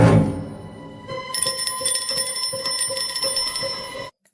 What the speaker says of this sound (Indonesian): ternyata malamnya lonceng itu berbunyi pertanda ada sesuatu yang